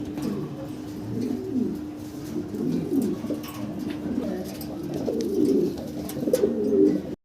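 Pigeons coo in repeated soft, throaty phrases at a pigeon seller's place. The birds are close and overlap with one another against a faint background hum.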